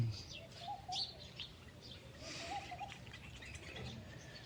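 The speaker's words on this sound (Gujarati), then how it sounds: "અને આ લેબડો હોય ઉપર પક્ષી સરે હે" Birds chirp in a neem tree at a temple, faint scattered tweets against quiet outdoor background noise.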